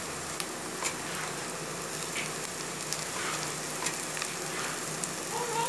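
Beans and cabbage stir-fry in a hot pan for restaurant-style Chinese fried rice, a steady close sizzle with scattered light clicks of stirring throughout, no voices.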